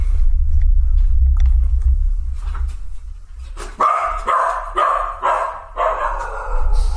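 Several dogs barking in a rapid burst of loud, close barks at a delivery arriving at the house, following a stretch of low rumbling noise.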